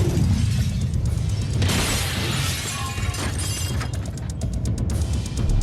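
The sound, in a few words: explosion blast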